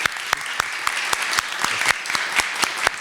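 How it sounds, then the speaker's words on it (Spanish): An audience applauds a discussion panel at the close of a session, with moderate clapping from a modest group where individual sharp claps stand out in an uneven rhythm. "Pues un aplauso para la mesa."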